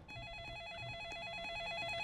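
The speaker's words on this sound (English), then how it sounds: "Who was calling a gas station this late? Where's the phone?" Telephone ringing inside a gas station in a Roblox game, a quiet, rapid warbling electronic ring that continues steadily over a low background hum, with no talking.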